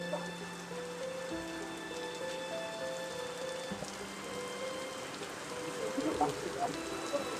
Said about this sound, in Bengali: একটু দেখাই যে কি পরিমাণ বৃষ্টি নামছে